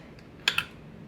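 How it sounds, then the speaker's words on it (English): Detail scissors make two quick, crisp snips into a thin plastic parfait cup lid, close and clear against a quiet room, with no talking. "little snips around the entire Parfait lid, and because Parfait plastic is so thin, it's very easy to do."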